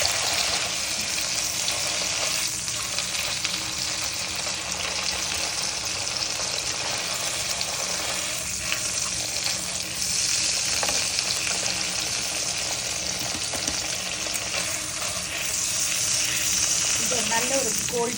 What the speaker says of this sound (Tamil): நல்ல ஒரு கோல்டன் ப்ரௌனில் ஃப்ரை பண்ணியிருக்கோம்